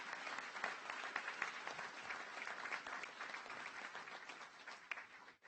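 An audience at a college graduation ceremony claps in a sustained round of applause, a continuous crackle of many hands heard from a distance and fairly soft, fading at the very end.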